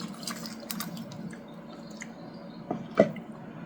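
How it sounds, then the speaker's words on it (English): Chicken bouillon broth is poured over rice, giving soft trickling and dripping liquid sounds up close, with a small splash near the end. "We'll add our broth in."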